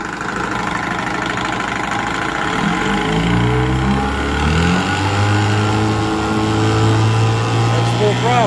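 A 1978 Johnson 6 hp outboard motor, fitted with the wrong spark plugs, runs near and loud, shifting from a lower idle into gear and rising pitch as it is pushed to full throttle, then holding a steady roar.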